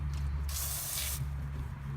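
A single burst of aerosol spray on bolts of a snowmobile hisses for about a second over a low steady hum.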